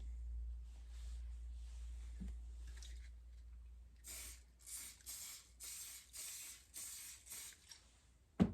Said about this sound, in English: I prefer the layering spray